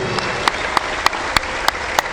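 Congregation applause during a church service, a steady crowd wash of clapping with a louder, evenly spaced beat of sharp claps cutting through it, like hands clapping along in rhythm.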